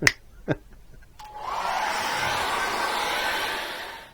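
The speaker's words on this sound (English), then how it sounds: "I'm going to dry that off with a hairdryer now" A hair dryer switches on after a couple of brief knocks and blows steadily with a loud, even whoosh until the end, drying acrylic paint.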